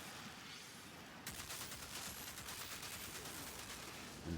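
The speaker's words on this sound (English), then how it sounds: "You can see my turret there freezing them." A Technomancer freeze turret firing in the Outriders video game, a rapid continuous stream of gunfire that starts abruptly after a short lull and carries on steadily and moderately loud.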